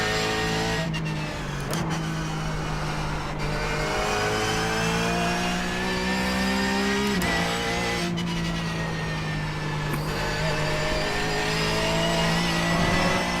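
A Porsche GT3 Cup race car in the iRacing simulator roars at high revs throughout, its loud engine note rising and dropping with gear changes, with no one talking.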